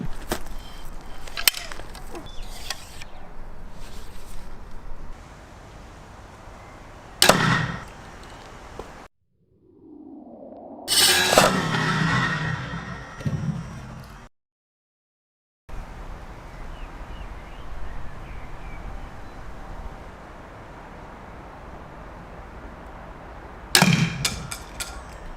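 Aluminium arrows with steel field tips strike a Thor's hammer target in a few sharp, isolated impacts, each a loud metallic clang or crack that stands out against quiet outdoor background noise.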